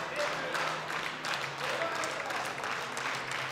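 Applause from a crowd cheering on a powerlifter's deadlift attempt at the 2022 European Open University Cup in classic powerlifting in Luxembourg: a steady, dense wash of clapping throughout, with commentary voices underneath.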